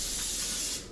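A single sustained spray of non-stick cooking spray hisses up close for about a second, then cuts off.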